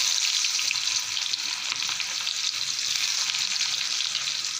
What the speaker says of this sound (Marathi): त्यामध्ये कांदा घालते